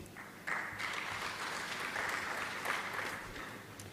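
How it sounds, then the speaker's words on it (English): Steady applause from a conference audience for a panel of speakers, moderately distant and even, filling the room for a few seconds with no talking. "A round of applause to our panelists"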